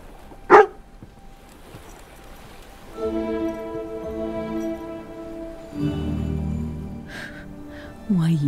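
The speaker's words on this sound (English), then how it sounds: "Why are you barking, buddy?" A Border Collie barks in the video game Farewell North, one sharp bark early on, followed by steady tonal game music and a few softer canine yips or whimpers near the end.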